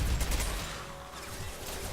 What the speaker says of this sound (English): Only a handful of shots with my hand cannon.